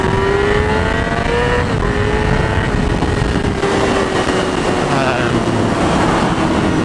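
A 2011 Yamaha R6 motorcycle engine revs loudly and steadily, its pitch sliding up and down under a constant rushing roar.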